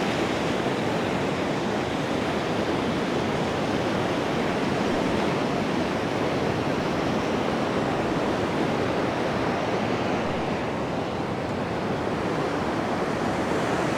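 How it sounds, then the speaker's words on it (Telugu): High, rough sea waves surge the day before Cyclone Montha in a steady, heavy roar of surf, with wind blowing across the microphone and no voices. "అసలు ఈ కెరటం చూడండి ఎంత ఎత్తుకు వస్తుందో అసలు చాలా ఉధృతంగా వస్తుందండి కెరటాలు కూడా"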